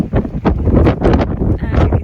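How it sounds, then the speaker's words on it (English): Strong gusts buffet the microphone aboard a sailboat on a shallow, choppy pond, loud rushing bursts rising and falling irregularly in close succession. "it's going to get really windy."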